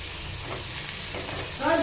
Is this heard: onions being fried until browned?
yes